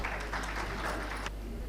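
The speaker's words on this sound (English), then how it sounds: "Can we please have a big round of applause for sir" Audience applause greeting a guest onto the stage at the inauguration of the Urban Infra Business Summit, a brief, fairly quiet wash of clapping that cuts off near the end.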